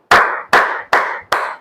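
Four sharp hand claps, evenly spaced about half a second apart, loud and close, each ringing out briefly in a reverberant space.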